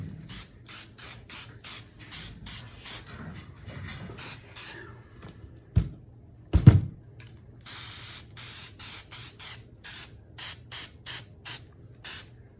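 Short bursts of spray paint from an aerosol can hit a motion-sensor Halloween prop, a regular rhythm of hisses with clicky can-shaking sounds in between, close and fairly loud, with no talking.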